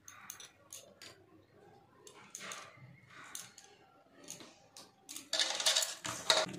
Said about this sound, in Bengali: আমি মাছে নুন হলুদটা মাখিয়ে নিই